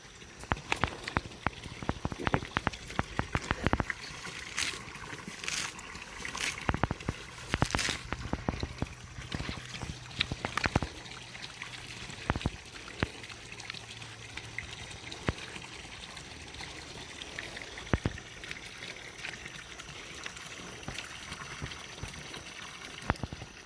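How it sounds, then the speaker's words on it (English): Water pours and trickles steadily into a livestock water trough outdoors, a continuous splashing flow with scattered sharp knocks and clatters over it, no talking. "Well, the water trough's full. Go turn the water off."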